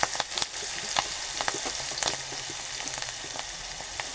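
Chillies and turmeric fry in a pan with a steady, moderate sizzle, marked by frequent short taps and scrapes of stirring at an uneven rhythm.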